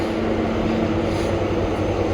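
A metro train approaches a station platform with a steady, loud low rumble and hum that fills the space without a break.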